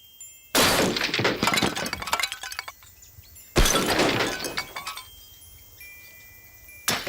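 A temporary outdoor sculpture is smashed apart during removal at a sculpture park: two loud shattering crashes, each followed by seconds of tinkling, crunching debris, then a brief knock near the end.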